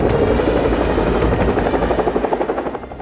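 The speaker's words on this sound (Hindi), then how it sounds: "दो बहुत ही ताकतवर हेलीकॉप्टर अचानक ब्रिटेन के आसमान में नजर आते हैं।" Two British Chinook twin-rotor helicopters flying overhead, a loud, dense roar with rhythmic rotor thumping that grows more pulsed toward the end, with no voices.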